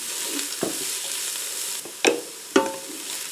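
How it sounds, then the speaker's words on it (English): Carrots are stirred into vegetables sautéing in a Ninja Foodi pressure cooker, giving a soft continuous sizzle broken by a few sharp scraping stirs and clatters. "So I'm going to go ahead and add in the carrots and give them a couple minutes."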